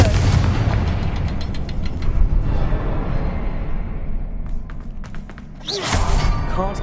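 Confringo fire spell blasts in the wizarding game Hogwarts Legacy: a loud booming explosion opens, rumbles and fades, then a second sharp burst erupts near the end, all close and without speech.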